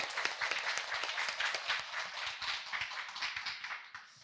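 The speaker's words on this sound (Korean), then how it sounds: "우리 큰 박수로 노무사님 한번 청해 듣겠습니다." Applause from an audience at a live workplace talk-concert event, a dense steady patter of many hands clapping close by for about four seconds before tapering off at the end.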